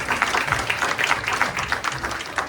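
A church congregation claps and applauds during a French-language sermon, with dense, steady clapping filling the room throughout without any speech over it.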